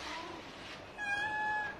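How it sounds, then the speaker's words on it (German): A kitten meows once from another room, a thin, drawn-out cry in the second half that sounds slightly distant and faint in a quiet home. "Und das Stiefkitten miaut dort vom Zimmer aus."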